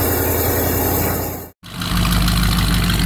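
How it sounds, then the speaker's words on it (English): A 1977 Mercury Marquis engine idles loudly and steadily up close, a low continuous rumble with a brief dropout midway before the even idle resumes. "I figured I'd do a shot from the outside while it's idling."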